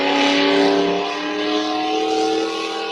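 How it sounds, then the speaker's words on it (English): A tractor with a small block engine at a tractor pull, its loud, sustained engine roar steady and near throughout, with a strong droning tone and no talk. "She just bought this tractor at this pull, and she's learning this small block economod."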